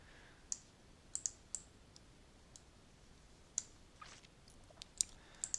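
Mouse clicks in Gamemaker's drawing editor while the fill bucket tool is used, sharp, dry single and double taps spaced irregularly, close and faint against a quiet background with no talking.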